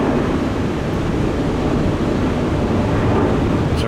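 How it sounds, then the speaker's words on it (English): Wind funnels through the top open level of a parking garage, a loud, steady roar of rushing air and buffeting against the microphone, with no voices. "that wind's just getting sucked through here"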